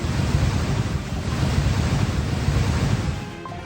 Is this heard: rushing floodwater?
yes